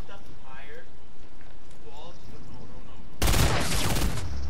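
Gunfire in the video game Fortnite: a sudden loud burst of rapid shots near the end, after a stretch of quiet game ambience with faint talk.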